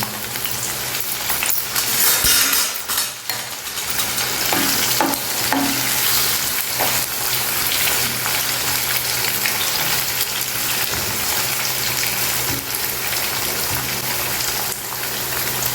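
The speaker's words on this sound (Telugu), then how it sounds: "ఈ ఆయిల్ వేడెక్కిందండి ఇప్పుడు ఇందులో మనం ఈ ఉడకబెట్టుకున్న కాకరకాయ ముక్కలు ఇందులో వేసేద్దాం" Boiled bitter gourd pieces frying in hot oil on medium flame crackle and sizzle continuously, a dense, close hiss with occasional stirring clatter and no talk.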